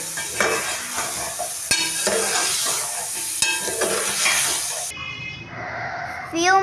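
Korma masala with crushed chili roasting in a pan, a steady close sizzle and frying hiss with stirring scrapes, cut by a few sharp clatters, then a quieter stretch with brief talk and a rising tone at the end.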